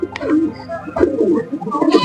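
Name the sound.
pigeons cooing after being released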